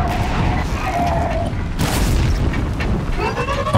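In Horizon Zero Dawn, fire arrows trigger a booming blast, a loud crash-like burst amid dense, continuous game noise, with a further rumble trailing after it.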